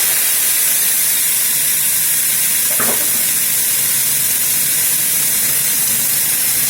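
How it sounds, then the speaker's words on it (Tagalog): Pechay being sautéed with garlic in a pan, a steady broad sizzling hiss throughout with one brief clink of a utensil midway. "So, dito naman sa kabila, nagigisa ako ng gulay niya."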